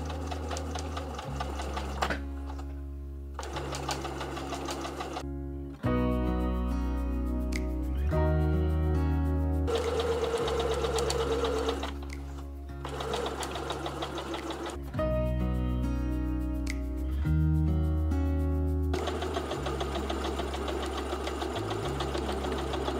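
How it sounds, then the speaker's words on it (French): A sewing machine stitches quilting lines along bag handles, running loud and steady in long bursts separated by short pauses, with no talk. "Et on vient donc coudre sur toutes ces lignes."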